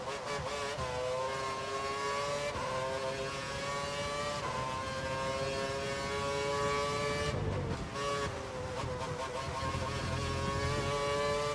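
A Formula One race car engine from the F1 2012 video game whines steadily at high revs, its pitch rising and falling through gear changes, with a louder surge near the end, loud and continuous with no talking.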